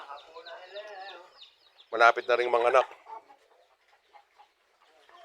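An old brown mother hen on a farm gives soft clucks, then a louder cluster of near, throaty calls, with someone talking over parts of it and quieter bird sounds trailing after.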